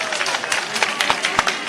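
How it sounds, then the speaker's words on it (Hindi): A crowd of party workers claps at a Congress office gathering in Bhopal, welcoming young MLAs: a short burst of scattered, uneven hand claps, moderately loud, with a voice talking over them. "सभी मेरे परिवार के वो साथी जो युवा विधायक है, जरा उनके लिए भी जोरदार तालियों से स्वागत करें"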